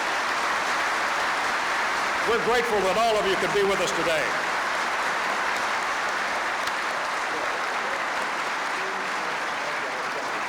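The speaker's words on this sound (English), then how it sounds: "Now, can we hear some applause for these very distinguished guests?" Audience applause at an outdoor Veterans Day ceremony, a steady broad wash of clapping lasting throughout, with a voice briefly speaking over it early on.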